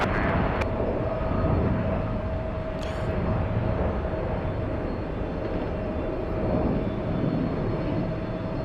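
A heavy jet airliner lands on runway 22 left at Los Angeles, a steady, moderately distant roar of engines holding evenly throughout with a faint high tone above it.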